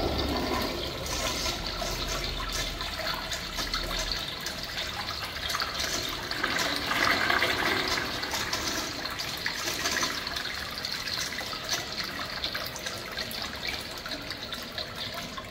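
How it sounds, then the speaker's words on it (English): An antique 1931 Crane Sanwall toilet flushes in a vintage bathroom, a loud continuous rush and gurgle of water that swells midway and then settles into steady refilling, close by and without talk. "Definitely not the best flush stuff, but this is a really cool bathroom."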